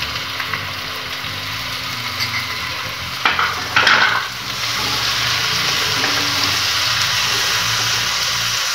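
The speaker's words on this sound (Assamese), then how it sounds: "এইখিনি অলপ ভাজি ল'ব লাগিব" Cumin powder and spices fry in a pan while a spoon stirs them, a steady hiss of sizzling with a low hum beneath and a brief burst of scraping and louder crackle midway.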